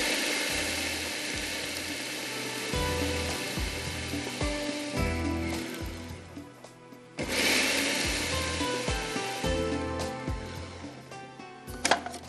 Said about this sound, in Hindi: अब हम इसको चॉपर को चलाएंगे